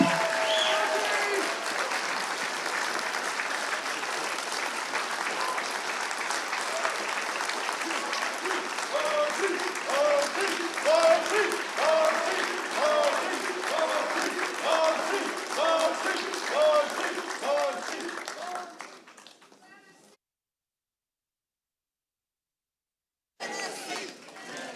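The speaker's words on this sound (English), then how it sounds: "How about a round of applause for both candidates?" Sustained audience applause for both candidates at a Tennessee gubernatorial forum, a large crowd clapping loudly with cheers and chatter mixed in for about twenty seconds before cutting to silence, then a brief return of room noise.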